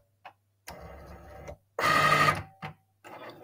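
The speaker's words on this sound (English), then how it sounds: "it is moving its way around the print to make sure that the machine is aligned with the actual print" A Cricut cutting machine moves its head around a printed sheet to check alignment, giving short separated mechanical whirs and a louder motor burst with brief pauses between them.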